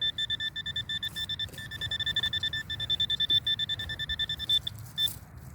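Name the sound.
metal detector signal tone over a target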